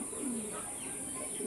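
Racing pigeons in a loft give soft, continuous cooing close by, a steady low murmuring with faint chirps over a constant background hiss.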